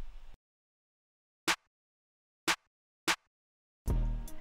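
Z snare drum sample programmed in FL Studio for a trap beat, struck three times at uneven spacing, each a sharp bright crack with quick decay, alone in silence before a louder hit arrives at the end.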